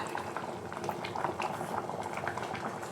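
Toor dal sambar boiling in a pot, a steady close bubbling and gurgling with small irregular pops throughout, no talk.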